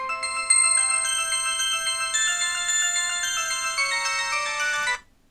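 Twinkle Twinkle Little Star ringtone played through the built-in loudspeaker of a 2007 Eten Glofiish X800 smartphone, a bright tinny melody of clear electronic tones that runs about five seconds and then cuts off abruptly.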